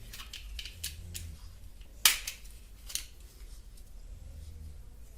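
A mini plastic ball-blasting toy shotgun fires once, a single sharp snap near the middle, close and loud over steady room noise, with faint clicky handling sounds before it.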